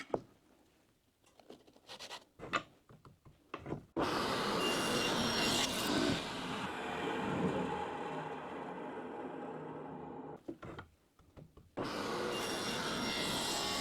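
A table saw cutting wooden test pieces for custom picture frames, two loud sustained whining cuts separated by a brief pause, with scattered handling clatter before them.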